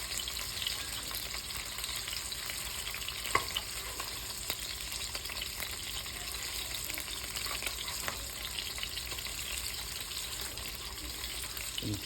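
Sausage frying in a pan for sausage cavatappi while a spatula breaks it into bite-sized pieces; a steady, close sizzle runs throughout with faint scraping taps, and no one talks.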